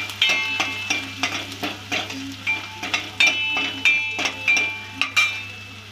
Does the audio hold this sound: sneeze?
no